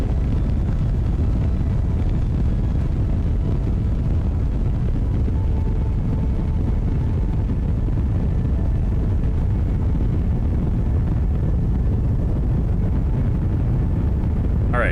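Rocket engines of a spacecraft in Kerbal Space Program 2 roar as a continuous, loud, low rumbling drone that holds steady throughout with no talking.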